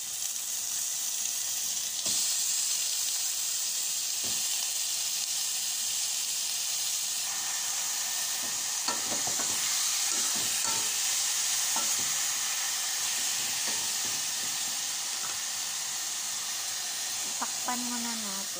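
Chicken pieces sizzling and frying steadily in a pan as they brown, a continuous close hiss with occasional stirring scrapes and brief voices.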